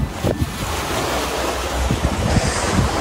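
Ocean waves wash against the rocky coast at Cape Takei, the northernmost point of Shikoku, with a constant rushing surf and gusty wind buffeting the microphone, steady and fairly loud with no talking.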